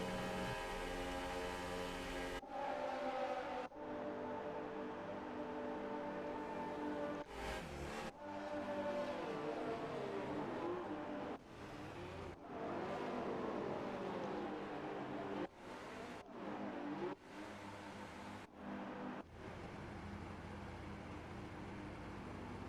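Race cars sit on the grid at the start of an RRF1 race in Australia in a video game, their engines droning and revving in loud harmonic tones, broken by abrupt cuts.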